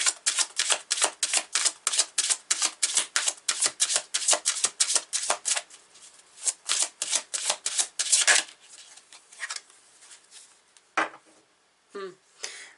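Tarot cards are riffled and shuffled in a rapid run of crisp, close slaps, followed by slower scattered taps and slides as single cards are pulled from the deck near the end.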